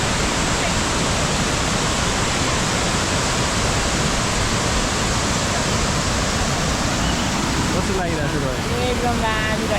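Mailung waterfall (Bhange Jharana) in Nuwakot, Nepal, roars as a steady, loud, broadband rush of falling water that fills the whole clip, with a faint voice briefly audible near the end.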